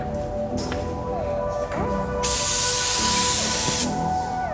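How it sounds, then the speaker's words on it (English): An aerosol spray can of red paint hisses in short bursts on a car's transmission tunnel, then sprays in one long, loud continuous blast before stopping. "my job is to spray this thing red"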